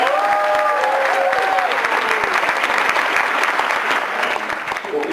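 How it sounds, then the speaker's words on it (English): Audience applause at a civic engagement summit at UMD, loud sustained clapping from a large room that tapers slightly at the end, with a few voices under it early on. "And the biggest round of applause has to go to Kate Jones so she can hear us."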